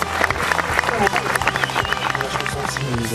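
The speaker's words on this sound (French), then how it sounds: "Je vous prie de l'applaudir" An audience at a French-speaking gathering applauds a guest introduced alongside young people, a dense patter of claps running through the whole stretch under ongoing talk and tonal background sound.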